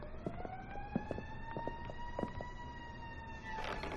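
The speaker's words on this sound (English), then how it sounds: "I like that the police car's going by outside." Police car siren passing by outside, a wailing tone gliding slowly upward and holding, heard from a distance behind faint clicks and room noise.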